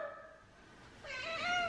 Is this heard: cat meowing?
yes